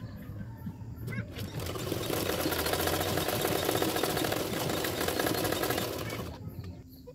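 A sewing machine stitches the neck of a princess-cut blouse in one continuous, even run, starting after a second, buzzing loud and close for about five seconds, then stopping, with quieter surroundings at either end.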